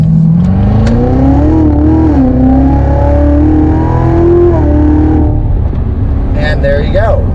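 Close, loud engine note of a car in second gear swinging through a U-turn, revving and pulling hard through paddle-shifted gear changes, with rising and falling pitch and a brief voice near the end.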